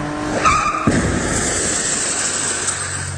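A car brakes hard, tires screeching and skidding loudly up close, followed by a roaring rush of engine and road noise that carries on steadily, with no talking.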